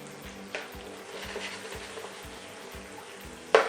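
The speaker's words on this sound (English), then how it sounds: "I'm just going to add the onions, peppers and tomatoes to that, and they're going to cook down nicely in that oil" Onions, peppers and tomatoes frying in oil for a chorizo and tomato cassoulet, a soft continuous sizzle with rhythmic stirring scrapes of a utensil in the pan and a sharp clatter at the end.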